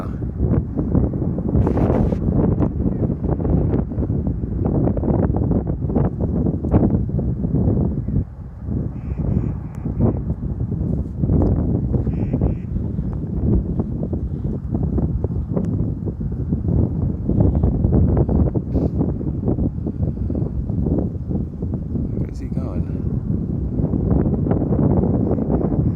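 An east wind buffets the microphone in a steady, loud, broadband rumble across a lakeside setting near Lake Tahoe, with gusts rising and falling throughout and no clear voices.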